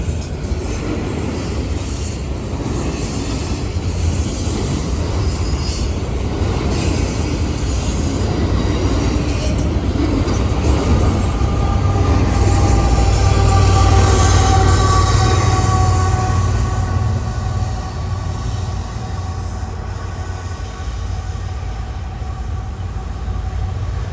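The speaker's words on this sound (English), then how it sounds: "Nice size auto rack train. M89 southbound, heading to Atlanta." A long Norfolk Southern auto rack freight train rolls past in Gaffney, South Carolina, heading south, loud and close, with steady rumbling wheels, rhythmic clacking and drawn-out metallic wheel squeals throughout.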